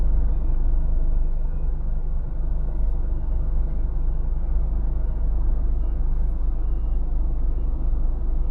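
Steady motorway traffic on the M1 gives a continuous low rumble of cars and trucks, broad and unbroken, heard at a moderate distance with no voices.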